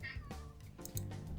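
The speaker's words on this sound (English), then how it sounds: "Now I'm so sorry about my cat." Pet cat named Chili meowing a couple of times up close, drawn-out yowling calls over a low background hum.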